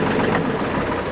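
Tractor engine running steady and loud, a low constant rumble close by as it is being shut down on a hot farm day.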